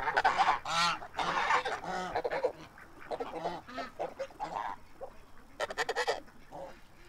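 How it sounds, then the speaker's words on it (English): Geese honk noisily nearby, a busy chorus of overlapping calls with short pauses between bursts. "the geese are noisy"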